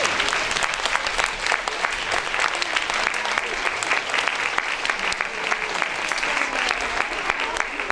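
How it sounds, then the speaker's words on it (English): A standing audience applauds at a grade 5 school spring band concert, with thick continuous clapping from a large crowd and some voices mixed in, holding strong for eight seconds. "let's give him one more big round of applause"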